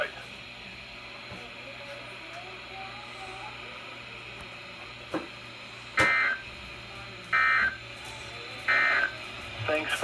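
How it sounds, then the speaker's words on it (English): Three sharp electronic NOAA Weather Radio warning alarm tones sound in short bursts during a weekly test, evenly spaced near the end, after a quieter stretch of faint radio static and hum. "This concludes the test of the NOAA Weather Radio warning alarm device."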